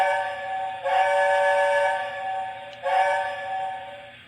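Two long, steady whistle blasts from a Lionel LionChief Hogwarts Express O-scale model train, bright and tonal, each held for about two seconds, with a brief gap between them.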